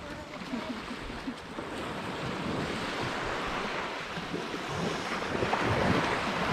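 Sea waves wash onto the shore at Harihareshwar beach in a steady, broad rushing roar that builds slightly toward the end, with wind buffeting the microphone throughout.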